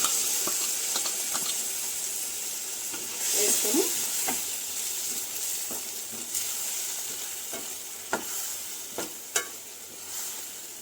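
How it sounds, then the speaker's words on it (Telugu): Ground masala paste fries in oil in a pan after the tomatoes, giving a steady close sizzle and hiss, with occasional clicks and scrapes from stirring and no talking. "పచ్చివాసన పోయేట్టుగా బాగా వేయించుకోవాలి"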